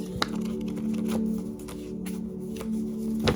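Tarot cards are handled and shuffled close by, with a series of crisp riffling flicks and taps spread across a few seconds, over a low steady background hum.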